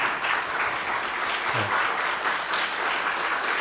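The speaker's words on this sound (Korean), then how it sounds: "우리 박수로 오랜만에 오셨으니까 환영해 주시기 바랍니다" A church congregation at a Korean Presbyterian Sunday service in Niagara claps to welcome returning visitors, steady and even applause filling the room for a few seconds with no speech over it.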